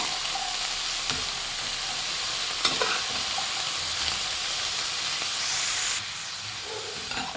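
Shredded cabbage and fried onion are stirred in a hot pan for cabbage palya, with a continuous close sizzle and hiss, a few scraping clinks of the spatula, and the frying noise dropping slightly near the end.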